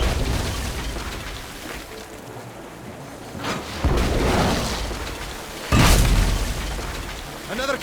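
Cannons fire in the game Tales of Monkey Island: two heavy booms land a couple of seconds apart over a rumbling background, the second sharper and louder.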